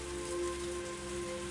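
A torrential downpour in the visual novel Higurashi, a steady broadband hiss of heavy rain with a faint held tone underneath, constant throughout.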